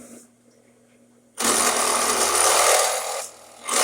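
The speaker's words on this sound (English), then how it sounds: "let's go ahead and do our first drill out" A drill bores out a hole during repair of an antique spinning wheel, starting abruptly after a quiet stretch and running as a loud, close, high whirring grind for about two seconds before cutting off, with no talking.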